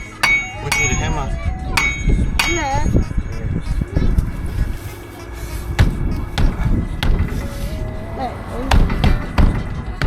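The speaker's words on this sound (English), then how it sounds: "we need a hammer." Hammer blows ring out on a metal wheel rim during a home machining job, several sharp irregular strikes mixed with thuds and a child's and adults' voices talking over them.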